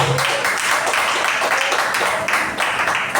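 A church congregation claps along during a joyful worship moment, a dense, loud, continuous patter of many hands with a faint voice or music tone briefly showing underneath at the start.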